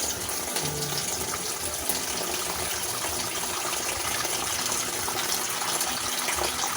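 Water pours steadily into a cooking pot while fish paksiw is being prepared, a continuous close gushing splash that lasts throughout with no talk over it.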